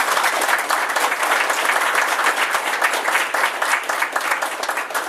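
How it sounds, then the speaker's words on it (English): Sustained applause from an audience at a Hunger Club speaking event in Savannah, dense steady clapping filling the room at an even level for the whole stretch, with no voices standing out. "If we can we give her a round of applause, please?"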